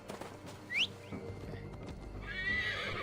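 A horse in Assassin's Creed Valhalla gives a bright, sharp whinny near the start, with clip-clopping hooves running throughout over a steady game ambience.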